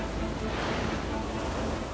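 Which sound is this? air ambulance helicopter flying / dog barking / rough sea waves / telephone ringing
rough sea waves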